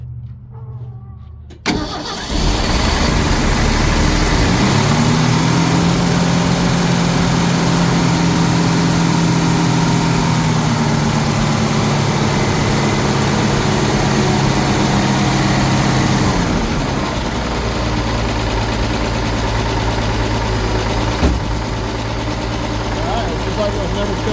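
A 1974 Ford farm find cranks and fires up, then settles into a loud, rough, steady idle with throttle blips rising and falling, close by, while people talk over the running engine.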